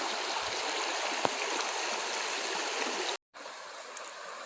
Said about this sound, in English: This is McCraney Creek.